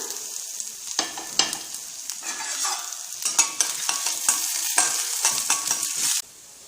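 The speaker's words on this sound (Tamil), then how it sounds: "கடலைப்பருப்பு, இஞ்சி இது 3 சேர்த்து வதக்கி எடுத்துக்கலாம்" Chana dal and ginger are sautéed with dried red chillies in a pan, giving a steady oily sizzle broken by repeated scraping and stirring clicks from a spatula, close and clear with no talk.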